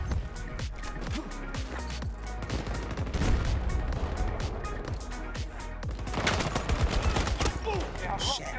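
Rapid bursts of gunfire from a horror video game crack out in dense, repeated volleys throughout, loud and close, with heavier clusters near the middle and end and no talking over them.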